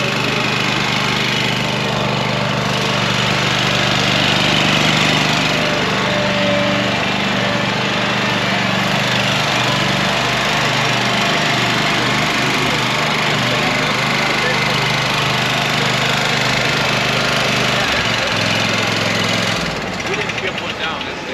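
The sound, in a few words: zero-turn lawn mower engine running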